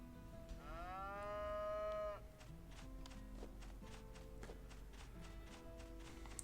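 A cow in the farming video game Harvest Moon: Home Sweet Home gives one long, clear moo, followed by a run of light clip-clopping footsteps.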